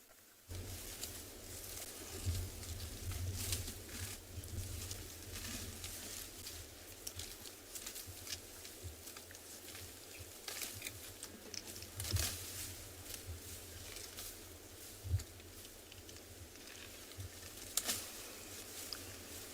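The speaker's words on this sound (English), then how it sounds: "You can actually hear it chewing." An elephant chewing buffalo thorn bush on a sunset safari, with soft irregular crunching and rustling close by, quiet and intermittent over a faint outdoor background with occasional sharper snaps.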